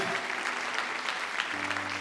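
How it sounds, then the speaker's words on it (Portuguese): Church congregation clapping during a sermon, dense steady applause at low level throughout, with a faint sustained tone entering partway. "Quantos podem aplaudir ao Senhor?"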